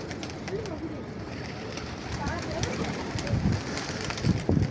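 Pigeons coo close by in a strong wind at a rooftop loft in Imbaba, soft repeated throaty calls rising over steady gusting noise, with no talk.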